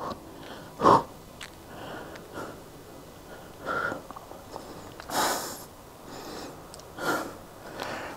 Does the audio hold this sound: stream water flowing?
no